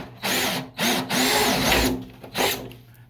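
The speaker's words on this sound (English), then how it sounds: "So what I'm doing is I'm drilling me 8 holes, and when you drill these holes, you want to drill them close to the bottom." A hole saw bites into a plastic tub to cut drain holes near the bottom, short loud whining bursts starting and stopping several times, close by.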